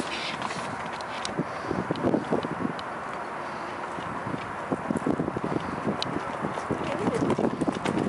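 A horse canters outdoors, its hooves giving a steady rhythmic drumming of thuds on the ground at moderate distance, with wind and faint rustling, while a person talks.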